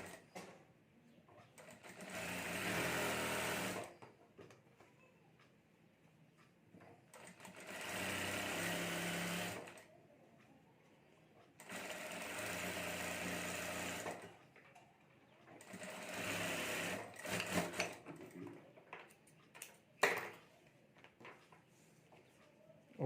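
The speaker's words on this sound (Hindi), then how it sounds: "इस तरह से फोल्ड करके ये हमें सिलाई कर देनी है साइड में" Sewing machine stitching fabric for a sling bag, running in four separate bursts of steady mechanical whirring with quiet pauses between, fairly faint and close, with no talking.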